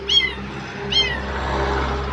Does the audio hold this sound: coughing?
no